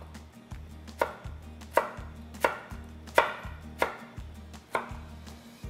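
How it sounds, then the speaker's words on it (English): A knife chops through a washed sweet potato on a cutting board, skin left on, in steady sharp strokes about every second. Each cut ends in a crisp knock on the board under a low continuous hum. "We're gonna cut all four sides off of this washed sweet potato because I am actually gonna keep that skin on."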